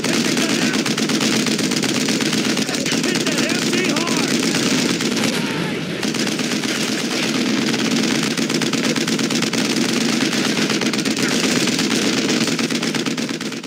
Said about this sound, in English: the problem came from this machine gun